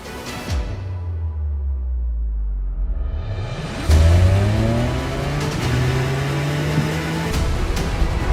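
A 2023 Toyota GR Corolla works hard on a race track, the engine revving up through rising pitches, dropping away, then surging loudly again, with gear changes and a faint tire squeal, close and loud.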